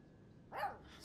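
A single short bark from Mushroom, the dog in the video game Life is Strange 2, rises sharply out of a quiet background and is fairly close, with no voices over it.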